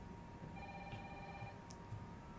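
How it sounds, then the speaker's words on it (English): A telephone rings in the Resident Evil 3 Remake video game, a quiet, steady electronic ring repeating a few times in a short burst, heard alone without talk. "let's just go answer the phone"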